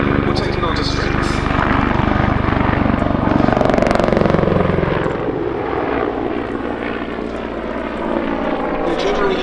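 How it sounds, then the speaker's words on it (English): A Czech Air Force Mil Mi-35 Hind attack helicopter at an airshow at Duxford, loud rotor thumping and turbine roar close by, fading somewhat toward the end, with someone speaking over it. "10 new Mi-35s, including this one, were taken onto strength."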